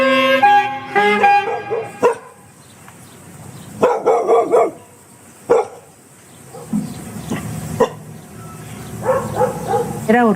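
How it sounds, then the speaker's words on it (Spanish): Dogs bark and yip in short bursts, some close and loud, with whimpering in between, while people talk over them in Spanish. "La pasión de Denis eran los perros."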